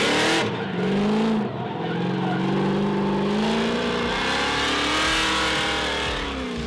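An 800 HP Nissan 350Z Formula Drift car drifting, its engine roaring loud and close with sustained high revs and rising pitch, tire squeal and skidding running throughout the continuous pass, no voices.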